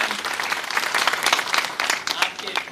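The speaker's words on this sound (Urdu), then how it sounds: "آپ کی بھرپور تالیوں میں" An audience at a youth seminar in Pakistan bursts into sustained, dense applause, a continuous close wash of clapping hands with a bit of crowd noise mixed in.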